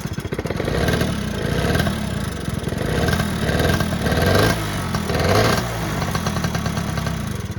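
A Honda Spree scooter's small engine runs steadily after a restart, with a continuous buzzing drone and a few rhythmic swells in revs. It is close and loud, with no talk.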